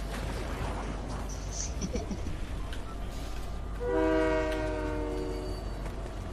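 A train rolls by in the video game Fortnite, a rumbling passage joined by a loud horn blast midway that holds for a couple of seconds, with faint game sounds around it.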